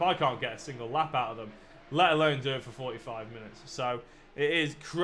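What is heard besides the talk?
No distinct noise like a dog, phone or traffic.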